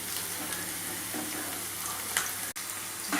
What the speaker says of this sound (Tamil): இப்போ நல்லா வதங்கிடுச்சு பாருங்கள்